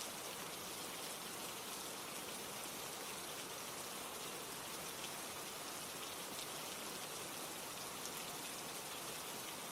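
Steady rain falling, an even hiss of drops on surfaces that continues throughout with no talking.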